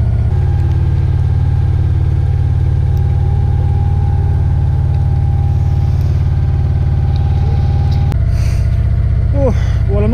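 Steady, loud diesel engine of a narrowboat running under its own power on a canal, a constant low throb that continues unchanged, with brief clatter and faint chirps near the end.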